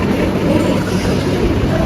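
Steady rumble of a train running on rails, heard from inside a carriage, with a dense low roar and faint rhythmic clatter continuing throughout.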